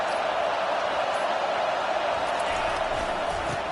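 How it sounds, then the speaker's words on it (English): Sustained roar of a football stadium crowd on third and long during Michigan versus Washington, a steady dense wall of cheering and noise that stays loud and even throughout. "Here comes the crowd trying to make it tough on 3rd and long."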